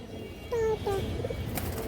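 Pigeons of an old-breed high-flyer and colouring line coo softly in a few short drawn-out calls, close by over a faint background murmur.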